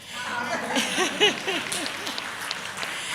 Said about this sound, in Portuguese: Aplausos para Cristo.